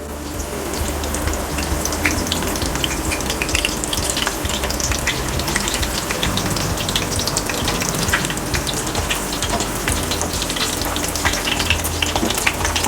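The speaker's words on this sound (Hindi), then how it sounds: "कबाबों को मैं बिल्कुल लो मीडियम फ्लेम पे फ्राई करूँगी" Chicken and vegetable kebabs fry over low-medium flame in a pan, a steady dense sizzle and crackle of oil holding constant throughout with no voices.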